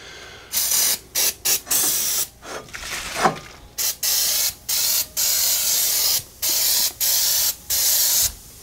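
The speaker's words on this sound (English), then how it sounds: "Now I'm going to spray the back first." An Easy-Off aerosol oven cleaner can sprays onto cast iron in a series of short hissing bursts, about a dozen in a steady rhythm, loud and close.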